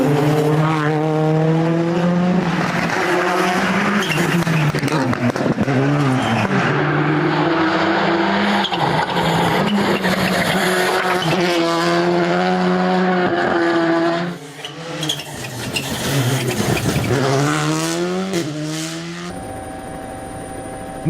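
An ERC rally car with tyre damage spins across the road, its engine revving up and down in rising and falling whines with tyre squeal, loud and close throughout.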